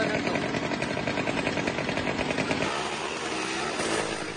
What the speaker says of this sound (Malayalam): രണ്ട് ബൈക്ക് ഉണ്ട്, ഒരാണും ഒരു പെണ്ണുമാണ് ബൈക്ക് ഓട്ടുന്നത്.